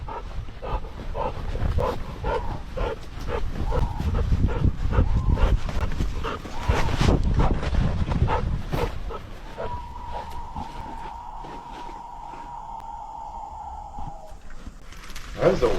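A frightened dog in a forest barks in rapid repeated bursts and whimpers, loud and close, then lets out a long thin whine before a final yip.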